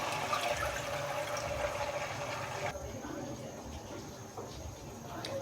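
Water poured from a glass into a pot of fried, crumbly onion masala for mutton kofta curry, a steady close pouring rush that shifts to a softer, quieter trickle and sizzle partway through.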